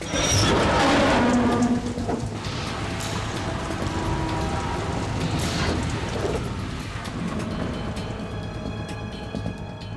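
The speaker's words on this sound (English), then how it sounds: "It stopped raining." Rain hisses steadily in Metal Gear Solid 2, a dense wash of falling drops with scattered louder splashes and distant rumbling, loudest at the start and easing slightly toward the end.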